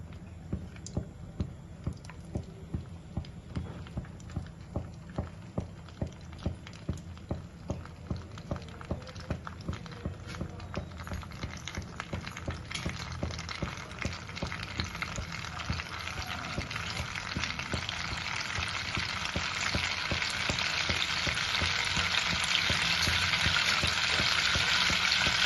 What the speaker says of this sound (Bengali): বাটারটা ভালো মতো মেল্ট হয়ে গেলে এর মধ্যে ফোড়ন অ্যাড করব।